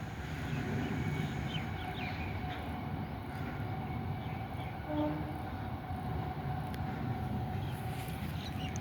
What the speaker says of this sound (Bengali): আবার লোকাল ট্রেনও যাচ্ছে।